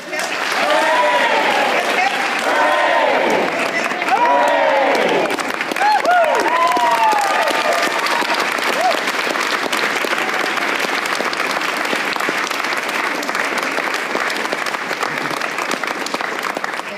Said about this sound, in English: let's raise a cheer for our community cheerleader